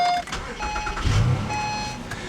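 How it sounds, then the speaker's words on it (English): A 2010 Acura ZDX starts with a push button: a short chime tone, then a low engine crank and catch that settles into a quiet idle with faint beeps, close and fairly soft. "Just put your foot on the brake and push the button to start the engine."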